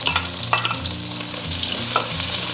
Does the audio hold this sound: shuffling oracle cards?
no